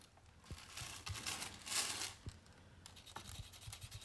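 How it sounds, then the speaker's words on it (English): A graphite pencil grinds into paper in circular motions, making continuous close scratchy rubbing with rising and falling strokes and a few sharper ticks over about four seconds, with no talk. "circular motions, grinding the graphite into the paper."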